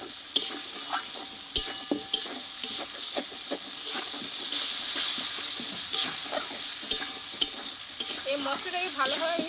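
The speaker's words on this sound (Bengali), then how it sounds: "এবার সব মশলাটা একসঙ্গে ভালোভাবে কষিয়ে নেব।" Spices with cumin powder sauté in a pan, a constant frying sizzle broken by repeated scraping stirs of a spatula, close and steady without talking.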